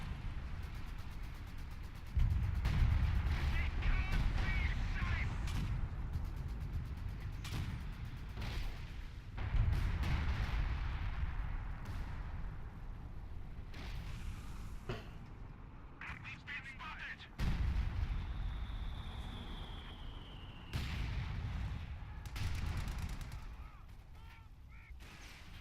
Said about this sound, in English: Another one, another barrage goes in here.